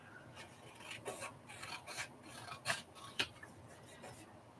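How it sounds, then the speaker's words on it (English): Paper edge being trimmed for a handmade detective-album journal, heard as soft, close rasping cuts in a few short bursts, with a couple of sharper snips standing out near the end. "I'm going to trim off this white part."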